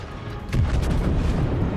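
Heavy battleship guns of the Großer Kurfürst fire in World of Warships, a sudden deep boom about midway that swells over a low rumbling background and rolls on for the rest of the moment.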